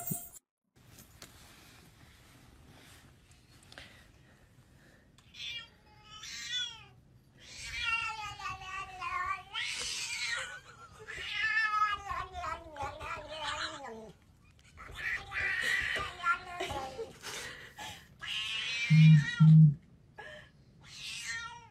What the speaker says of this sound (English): That's a big ass cat.